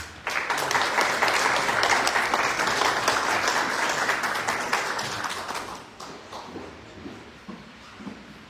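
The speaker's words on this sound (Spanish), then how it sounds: "Lo recibimos con un fuerte aplauso." Strong applause from an audience at a forum on pensions for retired teachers, dense sustained clapping that fades after about six seconds into quieter scattered claps and room noise.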